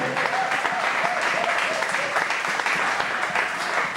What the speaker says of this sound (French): j'aimerais que vous puissiez vous applaudir vous-même.